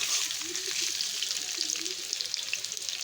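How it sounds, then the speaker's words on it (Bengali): Potatoes frying in mustard oil with a cumin tempering in a kadai give a steady, close, dense sizzle that holds evenly throughout with no voices. "কড়াইতে সর্ষের তেল দিয়ে তারপরে জিরে ফোড়ন দিয়ে আলুটা ইয়ে ভাজা করে নিচ্ছি"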